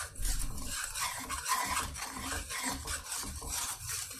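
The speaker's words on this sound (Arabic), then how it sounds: "هقلب بقى خالص على راحتي كده لحد ما اتاكد ان كله داب، مفيش اي تكتلات" A spoon stirs milk pudding (muhallabia) mixture of sugar, flour and starch in a pot, a continuous close scraping and swishing with soft rhythmic rubbing against the pan bottom.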